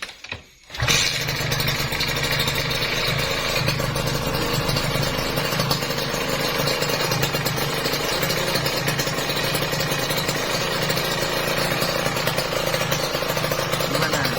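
A Kawasaki Ninja RR two-stroke motorcycle engine, rebuilt with a new piston after a rattling knock, starts after a short pause and then runs loud and steady close by at a continuous idle, no voices.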